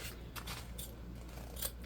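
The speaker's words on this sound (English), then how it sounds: "we're just gonna cut off our extra zipper on all of our bags and any of this extra stretchy" Scissors snip off excess zipper ends on sewn fabric summer beach pouches, a few crisp cutting sounds close by with quiet room tone between.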